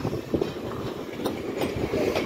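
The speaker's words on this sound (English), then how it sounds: "Hey, they got the caboose in back." A freight train with a caboose at the rear rolls past on a windy day, giving a continuous rumbling clatter of wheels on rails with faint clicks, steady and fairly close throughout.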